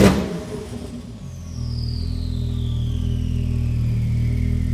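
Exhaust of a 2021 Porsche 992 Turbo S: an engine burst at the start, then a steady loud drone with a falling whine over it, cutting off abruptly at the end.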